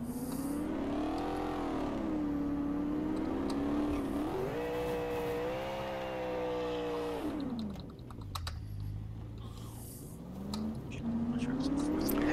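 Truck engine in DayZ revving continuously through gear changes as it drives, pitch climbing, dropping and rising again, loud and close with brief clicks mixed in.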